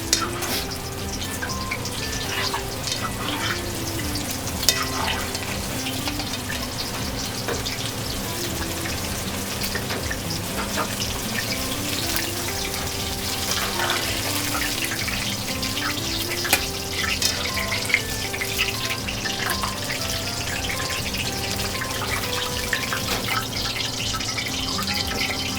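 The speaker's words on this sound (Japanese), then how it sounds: "ズッキーニ、ナス、 これも揚げて、" Zucchini and eggplant deep-frying in oil for a sansho-miso jajang pasta staff meal, a steady dense bubbling crackle with scattered pops running continuously and close, with no talk over it.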